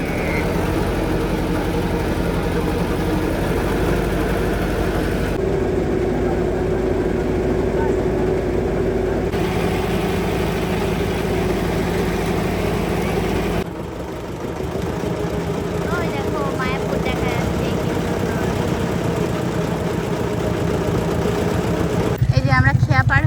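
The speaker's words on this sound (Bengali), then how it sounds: "আমি এই যে নৌকায় বসে পড়েছি" Engine of a ferry boat drones steadily through a river crossing toward Mayapur, a low continuous hum with a few bursts of louder noise and occasional background voices.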